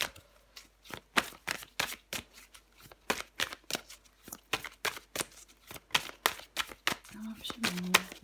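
Tarot cards being shuffled for a card reading: a long run of crisp riffling flicks and slaps in a steady rhythm, close and moderately loud, with a brief voice near the end.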